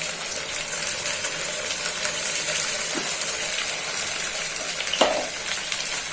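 Fried potatoes with a ginger, cumin and coriander paste sizzling in a pan, a loud continuous fry with a couple of brief clinks or scrapes and no voices.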